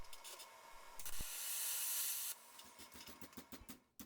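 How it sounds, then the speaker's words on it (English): A TIG welder joins front forks to a small steel model motorcycle frame: a steady, faint hiss lasting about a second, then quiet ticks and light tapping. "And now to weld the front forks onto the frame."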